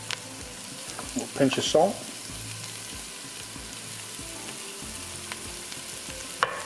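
Mushrooms and peppers frying in a pan for chili con carne, a steady soft sizzle running throughout with a brief louder burst of stirring early on and a short spoken remark over the cooking.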